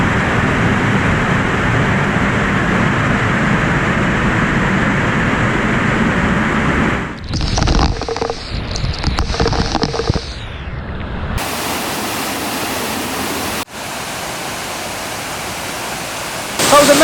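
Sgwd Yr Eira waterfall in South Wales roars from behind the falling water, a loud, steady broadband rush that fills the space and then shifts abruptly as the position changes.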